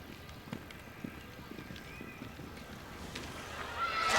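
A show jumping horse ridden at the Rome CSIO in 1997 gallops toward the wall obstacle, its hoofbeats thudding in a quick rhythm under arena ambience and a rising crowd noise.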